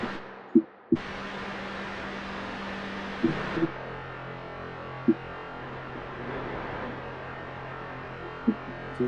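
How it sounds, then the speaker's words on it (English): Synth tone in Ableton, amplitude-modulated by a noise signal, giving a rough, grainy sustained drone that shifts character partway through, with occasional soft clicks and no voices. "So it's basically using noise signal as a modulator, and it sounds nicer in like in amplitude modulation."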